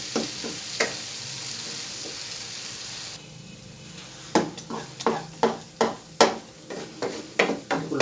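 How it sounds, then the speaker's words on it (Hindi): A spoon stirs egg and semolina halwa in a pan, starting with a soft sizzle and then giving a run of about a dozen evenly spaced scraping strokes, close and distinct, with no talk. "चमचे को आहिस्ता आहिस्ता बीच में चलाते रहें।"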